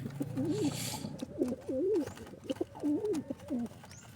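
Domestic pigeons coo repeatedly while being held and checked to tell hen from cock, a series of close, soft rolling coos with faint rustling, no talk over them.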